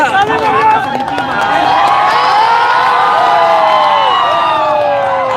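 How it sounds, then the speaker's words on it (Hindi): A crowd at a protest rally cheers and shouts loudly after a call to clap, a dense, sustained roar with overlapping voices and whoops that continues for several seconds. "ताली बजाइए।"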